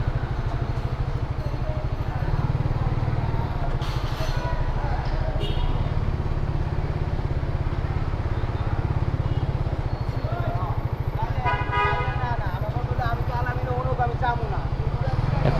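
Motorbike ridden inside an airport, a steady close engine drone throughout with a brief horn beep near the end, under a voice talking.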